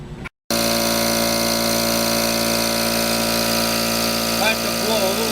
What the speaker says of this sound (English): I have to blow a little compressed air down.